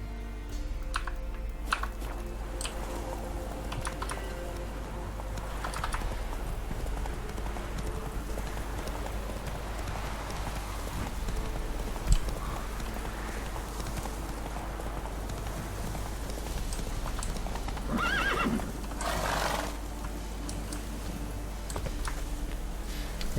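Horse hooves clip-clop at a steady gallop in The Witcher 3 video game, a continuous rhythmic patter over rain-like ambience with no voices.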